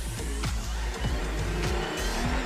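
Aston Martin Valkyrie engine on the Goodwood hill climb, loud mechanical revving with sharp repeated rises and drops as gears change, heard up close with no talk.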